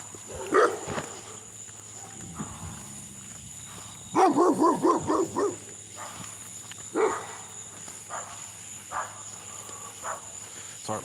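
A dog barks in a quick burst of several sharp yelps on a quiet rural road in Mississippi, with a few more single barks scattered afterward over a faint steady bed of insects.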